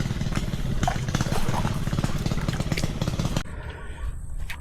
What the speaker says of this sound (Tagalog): Naghihingalo yung makina oh. Wala nang diesel.